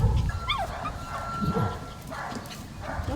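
A group of small dogs at the Ashtabula County Animal Protection League animal shelter yip and whimper close by, in short high bursts over a steady room murmur.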